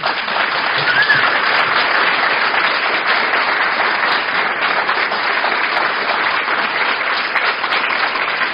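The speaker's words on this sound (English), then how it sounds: "let's give them a proper round of applause" An audience at a live event gives a sustained round of applause, dense and loud, holding steady from start to finish with no voices over it.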